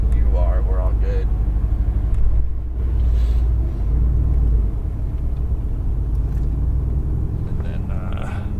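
A Mercedes AMG GTR rolls forward on a track, its engine giving a steady low rumble that runs the whole time under spoken voices.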